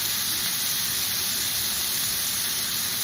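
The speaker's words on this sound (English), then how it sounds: "I'm going to put a little bit more oil in there just so this can saute. And I'm going to add my rosemary" Rosemary sautéing in hot oil gives a steady, even, close sizzling hiss that holds unchanged throughout with no talking.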